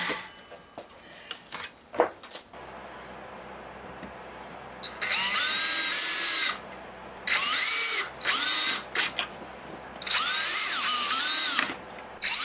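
Power drill driving screws to fix face plates onto a glued-up Spanish cedar platter, with several loud whirring bursts of varying length separated by pauses, preceded by quieter clicks and handling noises.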